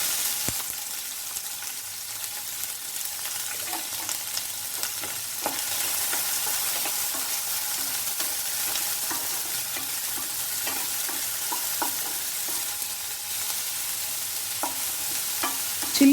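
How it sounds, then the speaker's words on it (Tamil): Finely chopped large onion and a slit green chilli sauté in oil in a pan for chilli egg, with a continuous soft sizzle and repeated spoon scrapes and clicks, up close with no voices. "இப்போ அதில் பொடியாக கட் பண்ண ஒரு பெரிய சைஸ் வெங்காயமும் ஒரு கீறி வச்ச ஒரு பச்சை மிளகாயும் சேர்த்துக்கலாம்."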